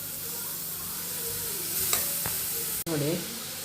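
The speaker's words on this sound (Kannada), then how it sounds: "ನೋಡಿ, ಕ್ಯಾರೆಟ್ನ ತುಪ್ಪದಲ್ಲಿ ಚೆನ್ನಾಗಿ ಹುರ್ಕೊಳ್ತಾ ಇದ್ದೀನಿ." Diced carrots fry in hot ghee for carrot halwa, a steady close sizzle with spoon scrapes and stirring clinks, including one sharp knock against the pan near the end.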